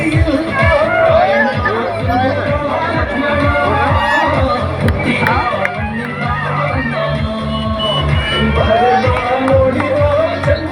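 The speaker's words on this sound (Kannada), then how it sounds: "ಅವರಿಗೆ ಒಂದ್ಸಲ ಅಭಿನಂದನೆಯ ಪೂರ್ವಕ ಚಪ್ಪಾಳೆಯನ್ನು ತಟ್ಟುತ್ತಾ ಶುಭ ಹಾರೈಸಬೇಕು" A crowd at a village fair mallakhamb show by schoolchildren claps and cheers, with children shouting and whooping amid loud continuous hubbub and chatter close by.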